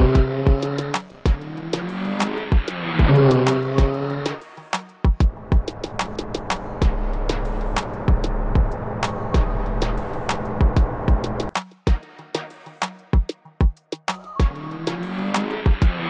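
A cartoon car in an animated Jamaican comedy screeches away with loud, repeated tire squeals and skids over a revving engine, broken by sharp clicks and brief pauses before more squealing bursts.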